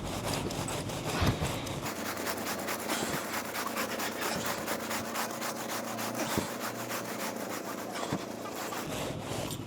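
A carpet fitter's seam roller is run back and forth over a freshly glued seam in artificial grass, making a steady, close, rasping rub with faint periodic clicks throughout.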